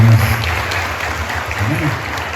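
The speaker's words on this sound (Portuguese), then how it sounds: "dar um forte aplauso pela vida de todas as mamães" A church congregation applauds strongly in honor of mothers, a dense, sustained wash of clapping filling the room, with a voice faintly present beneath it.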